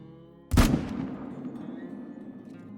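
A single sharp rifle shot rings out at a moose during a video-game hunt, a loud crack followed by a long rolling echo that fades slowly into quiet.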